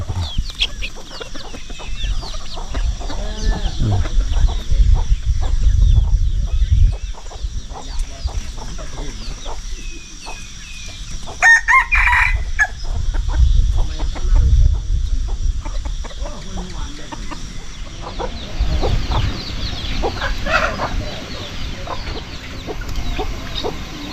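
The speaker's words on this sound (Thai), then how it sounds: "ตัวไก่" Chickens cluck and call close by at a riverside spot while fishing, with the occasional crow mixed in, loud and continuous over a muddy outdoor background.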